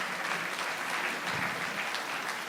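An auditorium audience at a theatre festival claps together in a dense, even burst of applause that fills the room throughout.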